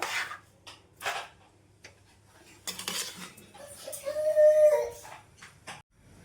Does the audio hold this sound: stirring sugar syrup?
yes